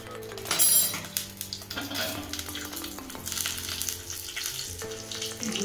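Whole cumin seeds sizzle steadily in hot oil with some clinks of utensils against the pan, fairly close and continuous, with no talking.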